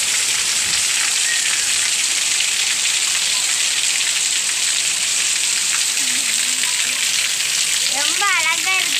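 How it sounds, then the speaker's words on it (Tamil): Heavy rain pours steadily over a village during a storm with thunder and lightning, a dense, constant hiss of drops on surfaces throughout, with faint chirps near the end. "இன்னைக்கு எங்க ஊர்ல நல்ல மழை பெய்யுது"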